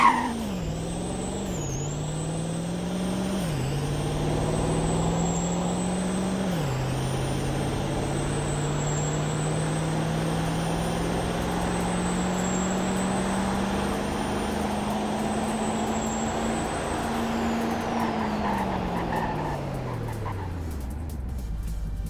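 A large 6.0 engine in a rear-wheel-drive XLT-trim SUV in a Roblox game revs hard through several gear shifts, drones at high speed, then winds down steeply as it brakes hard to a stop.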